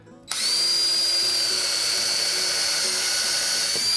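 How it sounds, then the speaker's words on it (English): Power drill driving screws into the wooden boards of a raised garden bed, starting abruptly after a moment of quiet and then whining steadily and loudly up close with a constant high pitch. "then I'll drill my other holes"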